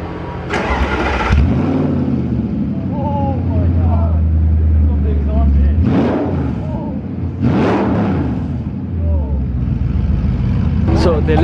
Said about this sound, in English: They left a Ferrari running.